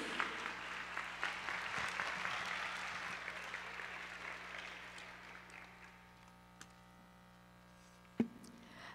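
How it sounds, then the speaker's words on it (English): Applause at a high school senior awards ceremony, a faint, distant wash of clapping that gradually dies away over several seconds, leaving a low steady hum with a few isolated knocks. "let's give them all another round of applause"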